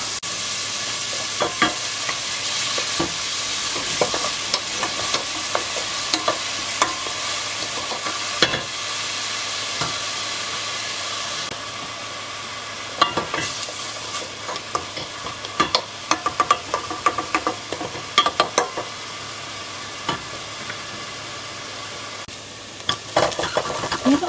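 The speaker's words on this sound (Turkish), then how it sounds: "Bir adet küçük doğranmış kuru soğanı ekleyerek kokusu çıkana kadar kavuralım." Chopped onion sautés in plenty of olive oil in a pot, giving a steady close sizzle and frying crackle throughout. Frequent spoon scrapes and stirring knocks against the pot break in alongside it.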